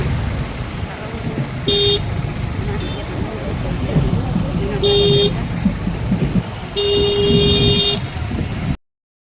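A vehicle drives along a sunny road in Nimapada traffic, with a steady engine and road rumble and several loud horn toots from other vehicles, while a person talks over the noise.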